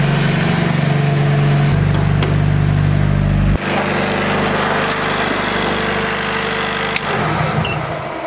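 A Nissan S14 drift car engine running on E85 idles steadily at a high, fast rumble, loud and close, with a slight drop in pitch partway through.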